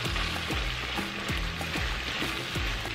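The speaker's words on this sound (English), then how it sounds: "Now we're going to add our tomato paste. Now give that a mix." Shepherd's pie filling with tomato paste sizzles loudly and steadily in a pan, while a utensil scrapes through it in regular stirring strokes about every half second, with no talking.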